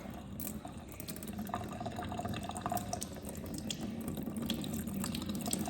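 Water runs and splashes as rice is rinsed for arroz y habichuelas, a soft, steady trickle with small sloshing bursts, close but quiet, with no talking.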